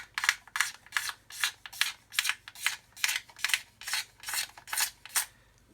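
A blade scrapes dried glue off a plastic model aircraft kit in about a dozen regular rasping strokes, close and even, each a short gritty rub with brief gaps between, no talking.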